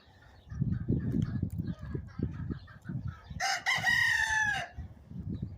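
A rooster crows once, loud and close, over a steady bed of low clucking and farmyard rumble.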